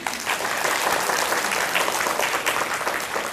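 Dense, steady applause from an audience at a seminar-style talk fills the whole stretch, loud and close with no pauses.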